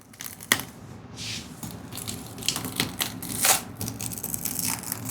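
An unfamiliar fruit being broken open by hand without a knife, heard as crunching, cracking and crinkling with irregular snaps and rustles, fairly close and quiet.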